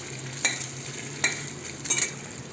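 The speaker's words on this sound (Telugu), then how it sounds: "బటర్లో కొంచెం పాస్తా ఇట్లా ఫ్రై అయినట్టు అయిన తర్వాత" Pasta frying in butter sizzles softly under a steady hiss while a utensil scrapes and stirs the pan in three distinct close strokes, the last a quick double scrape.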